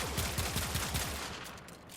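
Rapid revolver fire from the Vasto in Warframe, a quick string of about a dozen evenly spaced sharp shots over the first second and a half, loud and close, then fading into quieter game ambience.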